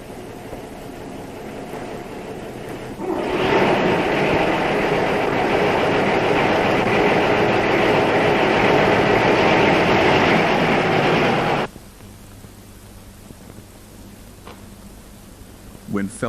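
A freight train of log wagons rolls past nearby with a loud, steady rumble and rattling wagons that suddenly cuts off, leaving quiet background.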